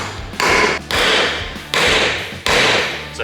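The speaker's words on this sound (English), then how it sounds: "you can just grab yourself a hammer and start driving it home." Hammer blows drive a tapered bearing race into a Toyota 80 Series or Nissan NP300 wheel hub: four loud, sharp metallic strikes about half a second to a second apart, each ringing out briefly, close up with no talking.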